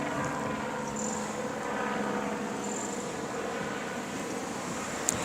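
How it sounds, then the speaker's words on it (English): A police helicopter circles over a parking lot, its rotor and engine making a steady droning buzz that holds at a constant level throughout, fairly loud, with a small sharp click near the end and no talking. "I want you to hear this helicopter activity."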